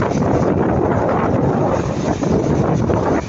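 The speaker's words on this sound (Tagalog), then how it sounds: "Kita nyo ang hangin, hangin habagat. Ayan. Lakas ng hangin." Strong, steady southwest monsoon wind in Batangas roars into the microphone, buffeting it continuously with a dense low rumble and no voices.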